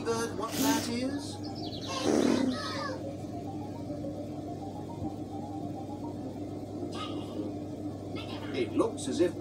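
A voice imitates a baby bird with a few high, chirpy squeaks, the loudest burst near the middle, over a steady low hum with light background sounds.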